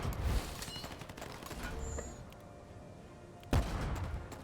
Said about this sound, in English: up here, we're just going to start bombing this city